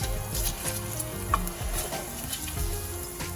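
Finely chopped garlic paste sizzles in a pan still coated with shrimp residue, a steady close fry with soft stirring scrapes throughout, no voices.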